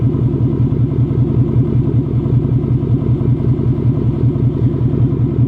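A car with a Magnaflow Competition catback exhaust system idles loudly and steadily with a deep, rumbling exhaust note, constant and close throughout with no voices.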